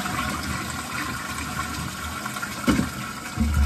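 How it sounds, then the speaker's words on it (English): A toilet flushing after a cistern repair, a steady close rush of water with a gurgling swell near the end, no voices. "Flush."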